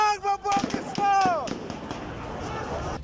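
Sharp gunshot cracks ring out at a street protest against Pakistan in Herat, mixed with shouting crowd voices and commotion; several reports stand out amid the noise.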